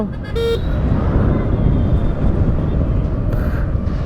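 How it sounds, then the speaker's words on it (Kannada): An Ola electric scooter horn gives two short toots a few seconds apart over traffic and road noise. "ಆರನ್ ಸೌಂಡ್ ಬರುತ್ತೆ ಅಷ್ಟೇ"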